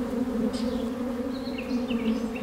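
Honeybees buzzing in a steady, droning hum that could pass for a drone, close and continuous with a slight waver, heard in the forest of Manas National Park on the India-Bhutan border.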